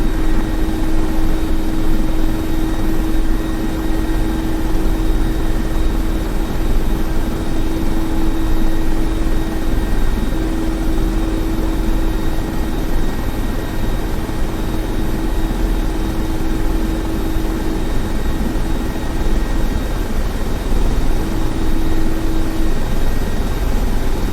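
Mi-24P Hind helicopter taking off in DCS, a loud, steady rotor and turbine roar with a constant whine holding throughout, no voices.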